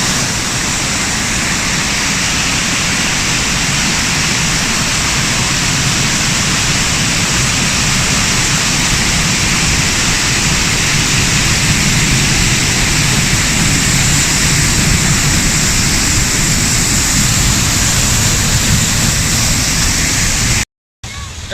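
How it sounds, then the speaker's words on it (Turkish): A waterfall in Germany pours down steadily, a loud, continuous broadband rush of falling water that stays constant throughout with no voices, cutting out briefly only at the very end. "gördüğünüz gibi şelale akıyor muhteşem"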